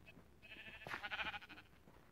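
A Minecraft Pocket Edition sheep lets out a wavering bleat in the middle of the stretch. It is fairly faint and stands alone over quiet game ambience.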